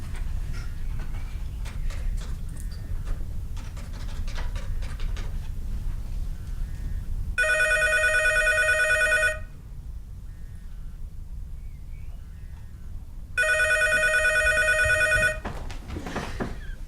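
Two bursts of a telephone bell ringing, each about two seconds long with a pause between, loud over a low background rumble and some faint clatter.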